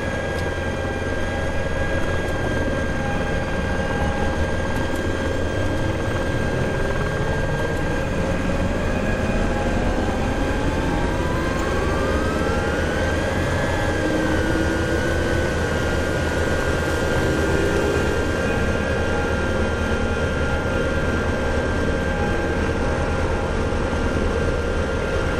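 Twin engines of a DRF EC135 rescue helicopter spooling up, a loud steady turbine whine with a tone that sweeps upward and then settles into a constant high pitch over a continuous rumble, with no voices.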